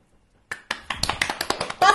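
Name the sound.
clapping hands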